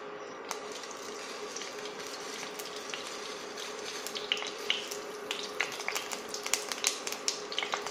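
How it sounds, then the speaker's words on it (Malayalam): Mustard seeds pop and splutter in hot coconut oil in a non-stick pan, a steady close hiss of frying. Sharp crackling pops grow denser and louder toward the end. "കടുക് പൊട്ടിക്കാം."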